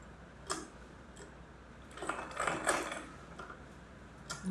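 A sewing machine stitching a drawstring waistband casing on a garment gives faint mechanical ticks, then a short run of clattering stitches midway before going quiet again.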